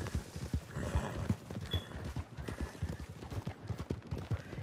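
Horse hooves clip-clop in a steady rhythm in the Red Dead video game, with a brief neigh, fairly close and moderately loud, with faint talk underneath.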